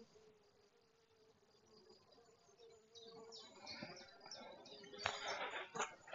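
Honey bees crowd a hive entrance, many returning workers heavily dusted orange with pollen, making a dense continuous buzz that swells louder and busier toward the end, with scattered faint chirps behind.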